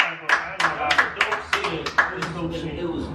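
Hands clap in a quick irregular burst of about eight sharp, close claps, with a voice talking over them.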